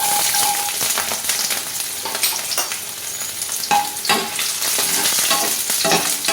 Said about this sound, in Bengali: এবারে দেবো আমি কিছু রসুনের কোয়া